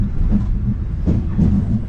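Second-class train rolling through the Bosnian countryside between Sarajevo and Mostar, a steady close rumble with a faint clatter of wheels on the rails.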